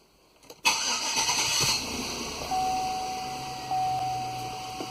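A 2005 Chevrolet Suburban with a 5.3 engine, showing a charging issue and running rich, cranks and catches after a short pause, then settles into a steady idle with a sustained electronic warning tone sounding above it.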